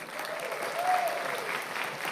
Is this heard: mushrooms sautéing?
no